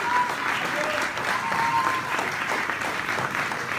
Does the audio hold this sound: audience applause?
yes